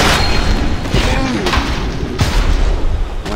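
Fire spell explosions in the VR fantasy combat game Blades and Sorcery, a dense stream of loud booming blasts and crackling bursts that keeps going without pause and sits under occasional talk.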